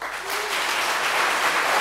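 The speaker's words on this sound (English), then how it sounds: "So can we all please practice our clapping as loudly as" Loud, dense audience applause at a EuroPython 2019 conference lightning talk, a sustained roar of clapping from a large crowd that swells slightly and holds steady throughout.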